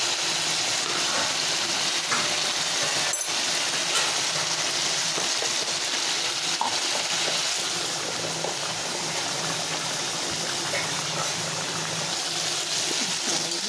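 Spice masala frying in oil in a pan, a continuous close bubbling sizzle that runs steady throughout with faint clinks and no speech.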